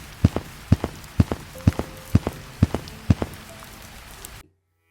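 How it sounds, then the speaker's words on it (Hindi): Light drizzle in a green countryside during the rainy season, heard as evenly spaced drops striking a surface in a steady rhythm, close and moderately loud, before it cuts to silence. "हर आसमान में हल्की हल्की बूंदाबांदी हो रही थी।"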